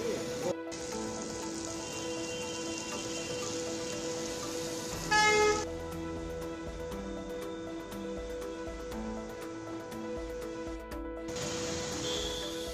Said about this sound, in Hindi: बारिश है कि थमने का नाम नहीं ले रही है